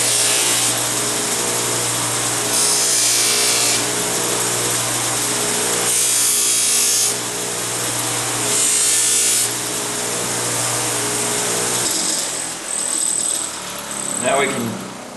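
A knife edge being power buffed on a wheel loaded with pink cut and color compound, giving a steady whirring, grinding drone with recurring bursts of brighter friction as the blade is pressed in, heard up close without talk.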